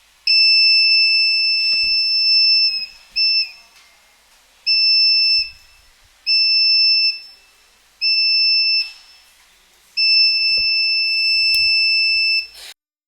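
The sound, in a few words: buzzer of LDR night siren electronics kit ringing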